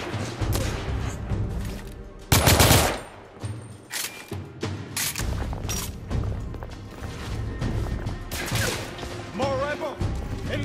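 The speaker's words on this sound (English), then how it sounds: "Under heavy fire!" Heavy gunfire from a firefight in the video game The Order: 1886, with loud bursts of shots and impacts in a dense, continuous barrage mixed with game effects and shouting voices.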